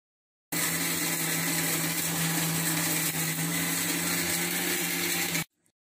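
A kitchen mixer grinds curry leaves, fenugreek and herbs for homemade hair oil, giving a steady, loud whirring drone for about five seconds before it cuts off abruptly.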